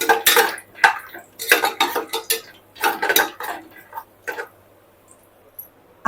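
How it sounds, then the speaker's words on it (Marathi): Raw peanuts sautéed in a pan, a rapid series of close, rattling scrapes and clatters as they are tossed and stirred against the metal, in bursts that thin out toward the end. "कच्चे शेंगदाणे घेतले ते दोन मुठभर घेतलेत मी थोडस परतून घेऊया"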